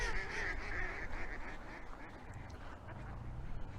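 A group of ducks at an outdoor duck pond quacks steadily and fairly close, overlapping calls running continuously over a rough wind-blown background.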